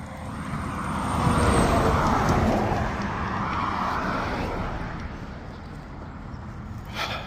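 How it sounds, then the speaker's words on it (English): A big truck rolling past on a nearby road through Marlboro, New Jersey, a broad rumbling roar that swells to a peak and then slowly fades away, heard outdoors without talk. "Big truck."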